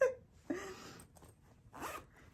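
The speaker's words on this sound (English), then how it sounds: "zip these two together" A zipper on a yarn storage bag is pulled in quick rasping strokes, one at the start and two more a moment later, close and clear.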